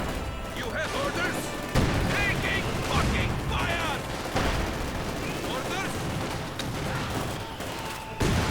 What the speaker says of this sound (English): my own Panzer Gunners get hit by the mortar